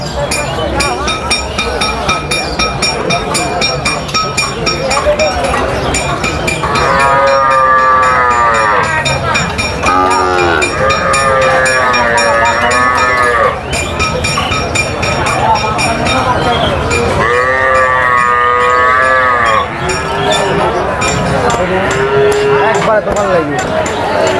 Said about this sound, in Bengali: গরুগুলো আপনাদের আমি ভালো করে দেখাই